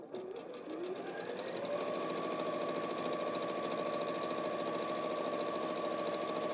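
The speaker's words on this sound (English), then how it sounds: "Sewing on air a couple stitches, then I start to sew." Sewing machine running continuously while chain piecing quilt fabric, a steady close mechanical whir that ramps up at the start and then holds an even rapid stitching rhythm without speech.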